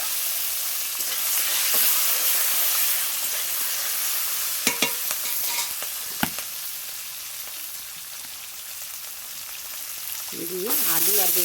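Chickpeas fry in oil in a wok with a steady crackling sizzle, broken by a few sharp clinks of stirring, and a voice comes in briefly at the end.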